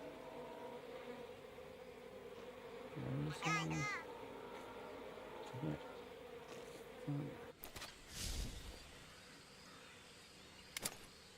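A bee buzzes in the jungle of the stealth game Metal Gear Solid 3: Snake Eater, a faint drone under steady ambient noise, with a few brief bursts of louder sound near the end.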